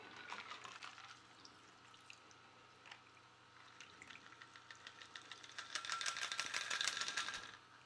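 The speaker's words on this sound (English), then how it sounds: "And let's pour a cocktail." A blood orange margarita is poured over ice into a black-salt-rimmed glass, a soft trickling liquid with crackling, rattling ice clicks that swell toward the end, close and quiet with no talking.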